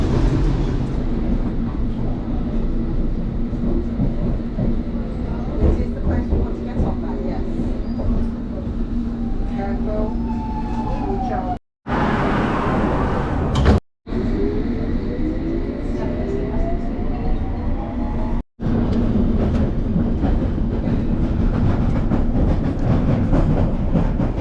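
A London train rides from East Putney toward Central London, with a loud, constant rumble of wheels and carriage, rail clatter and a few brief dropouts, all close and continuous.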